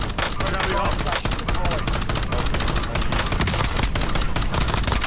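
Dense rapid gunfire from a shooter video game rattles on without a break, loud and continuous, with a voice talking faintly beneath the shots.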